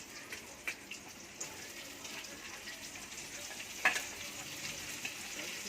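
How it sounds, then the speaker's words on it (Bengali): Sliced onions sizzle in oil in a pan for chicken biryani, a soft, steady crackle with occasional stirring clinks. "পেঁয়াজ ভাজা হয়ে গেছে"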